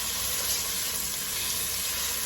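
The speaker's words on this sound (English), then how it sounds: "I'm going to go ahead and add my chopped garlic" Chopped garlic sizzling in red palm oil for a Brazilian fish stew, a steady close hiss and crackle of frying that stays even for the short stretch, with no voices.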